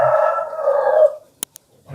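A rooster crows loudly and close by in one long, drawn-out call that fades out, followed by a couple of sharp clicks.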